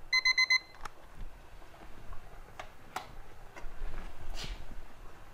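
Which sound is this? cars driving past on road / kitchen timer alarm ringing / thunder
kitchen timer alarm ringing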